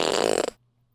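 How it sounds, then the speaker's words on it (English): A loud, buzzy fart sound effect played by a pranked computer when programs open, a single spluttering burst about half a second long that cuts off abruptly into silence. "my computer's farting at the same time"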